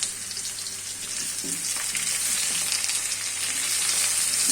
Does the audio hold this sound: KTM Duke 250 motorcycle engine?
no